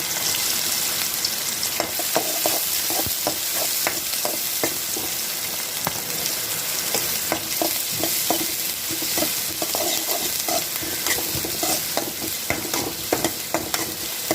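Continuous sizzling of finely chopped onion sautéing in a hot pan, with frequent scraping and stirring clicks from a utensil, busy and close throughout.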